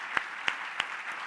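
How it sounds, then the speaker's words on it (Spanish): During a Spanish-language church service honoring Jesus, three sharp claps ring out at a slow, even pace, each distinct and fairly quiet, with a faint fourth near the end. "Él es digno de recibir ese aplauso."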